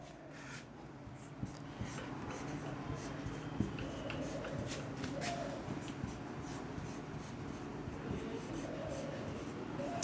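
A pen scratches out a maths solution for a JEE geometric progressions lesson, steady close scribbling strokes with brief taps, under intermittent talk.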